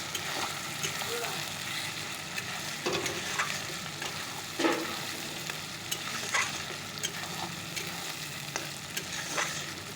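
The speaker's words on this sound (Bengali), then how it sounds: "মশলাটা কষিয়ে নিচ্ছি" Spices and a whole garlic bulb are sautéed in a pan as the base for a chicken dish. A continuous sizzle plays with intermittent scraping stir strokes and a few louder clacks along the way.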